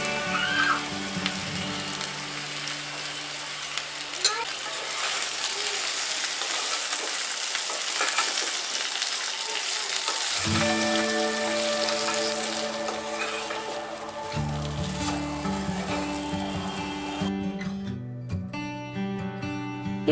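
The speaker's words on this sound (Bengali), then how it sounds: "30 সেকেন্ড মতো নাড়াচাড়া করে ভাজা মশলার গুঁড়োটা মিশিয়ে দিন।" Berry pickle (kuler achar) frying and being stirred in a pan with roasted spice powder mixed in, giving a steady close sizzle with scraping stir strokes throughout, shifting in tone partway through.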